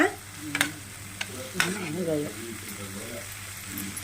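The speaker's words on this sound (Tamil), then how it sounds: "இறால் வந்துட்டு பரட்டி விட்டுருங்க" Prawns for a prawn gravy are stirred in a pan over medium heat. A few sharp spoon knocks and scrapes sound over a soft, steady frying hiss, and a voice speaks briefly.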